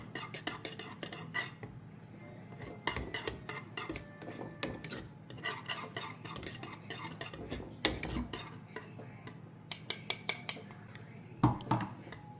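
A utensil scrapes and clinks against a metal pan while batter is stirred and mixed, giving close, irregular taps and scraping strokes with sharper clanks near the end and no talking.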